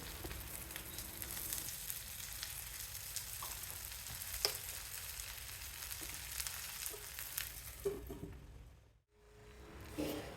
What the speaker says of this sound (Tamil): இது மாதிரி நிமிஷத்துக்கு ஒரு தடவை கிளறி விட்டுட்டு மூடி போட்டு வேக வச்சா கத்திரிக்காய் ஒரு 7-8 நிமிஷத்தில் நல்லா வெந்துடும்.